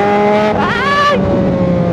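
An adventure motorcycle pulls away and accelerates, its engine note rising sharply in pitch through a gear before settling to a steady, loud drone close by.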